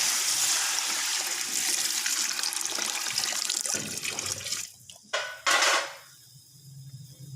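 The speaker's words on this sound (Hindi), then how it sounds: "पानी हमारा बॉयल हो चुका है।" A pot of water churns at a rolling boil, ready for cooking chicken mandi rice. A steady, loud bubbling hiss fills most of the clip, then breaks into a few short splashy bursts near the end.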